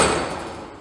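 A hand-operated gear roller works a flat metal panel, giving a close, bright metallic rolling ring that fades over under a second, with no talking.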